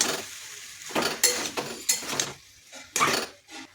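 Spice paste fried with masala in a pan for a pea and potato dish, several short bursts of sizzling and scraping stirs separated by pauses, close and fairly loud, with no voices.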